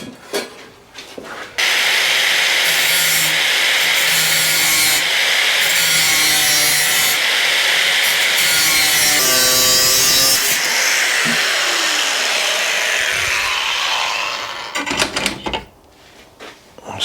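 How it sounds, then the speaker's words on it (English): Steady, loud hand sawing rasps through a strip of material close up, cutting out a marked triangle for a Suzuki GS motorcycle project, with a few brief pauses and scraping strokes. "I've marked a triangle out here with a hole in, so I'm just going to cut that out"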